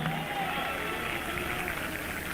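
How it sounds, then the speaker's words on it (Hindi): A church congregation claps steadily and densely at a prayer meeting, a continuous wash of applause with crowd noise holding at a constant level throughout. "उनकी तालियां रुकने वाली नहीं है"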